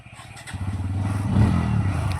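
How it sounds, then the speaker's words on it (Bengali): A motorcycle engine coughs to life nearby and rises into a rough, steady rev with a low throbbing rumble that swells louder toward the end. No talking. "গাড়িটা স্টার্ট দে, পিক আপ দুটো মুড়া জোরে করে"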